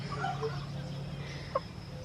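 A pet hen in a homestead coop gives a few soft, faint clucks and one short squawk over a low background hum.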